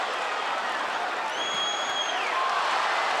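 Boxing arena crowd roaring steadily through the Miguel Cotto versus Antonio Margarito fight, a dense, continuous wash of cheering and applause with no break, while a commentator's voice sits faintly under the noise.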